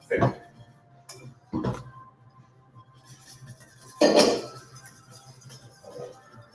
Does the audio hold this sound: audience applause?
no